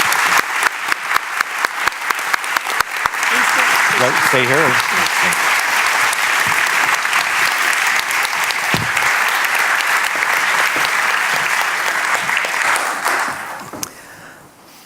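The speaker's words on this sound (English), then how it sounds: "let's have a really big applause for Jeremy" Big audience applause for a speaker at an evening talk at the Pakhuis de Zwijger venue, opening with a few sharp individual claps that build into loud dense continuous clapping before tapering off near the end, with brief voices underneath.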